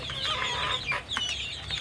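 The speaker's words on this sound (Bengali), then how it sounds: "দেখেন কিভাবে খাইতেছে দেশি মুরগি" Native free-range chickens cluck steadily and close by as they peck at fresh grass, with soft overlapping calls and no talking.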